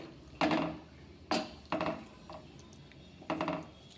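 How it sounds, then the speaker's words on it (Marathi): A spoon clanks against a pan while gram flour batter is stirred as it cooks over low heat, giving several separate knocks and scrapes with short pauses between them, fairly close and quiet. "सतत ढवळत राहायचे आणि आपण हे बेसन शिजवून घेणार आहोत"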